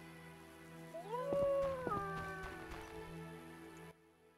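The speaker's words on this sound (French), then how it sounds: "Je jurerais que ce chien cherche quelque chose." A dog howls in The Witcher, rising and sliding through several sustained, wavering tones with a couple of sharp breaks, moderately close over quiet game ambience.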